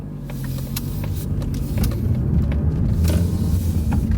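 Car engine during heel-and-toe downshift practice on a road, a steady low rumble with road noise that swells slightly as the car builds speed, heard from inside the cabin with no talking.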